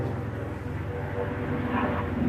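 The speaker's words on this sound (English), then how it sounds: "now we got what? An airplane? This is not the fly zone." An airplane passes overhead, a steady low broadband roar that holds evenly and swells slightly toward the end, heard alone without talk.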